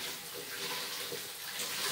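Water runs steadily from a tap to rinse soap out of face-painting sponges and brushes, an even hiss at close range with no talking.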